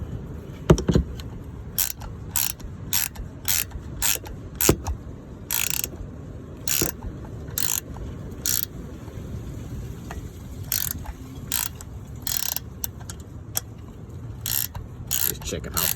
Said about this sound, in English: I'm gonna just hold it here while I turn this bolt a little bit.